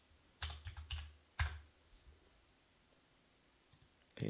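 Someone types on a faulty computer keyboard, a quick burst of soft clicks followed by a single keystroke and a later isolated press, close and quiet with no talking over it.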